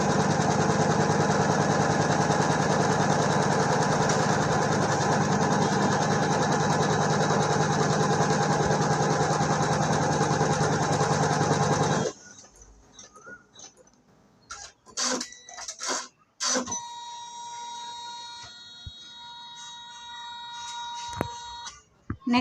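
A computer embroidery machine runs after its start button is pressed, giving a loud steady high-pitched mechanical whir for about twelve seconds before it stops, followed by quiet clicks and a few brief beeps.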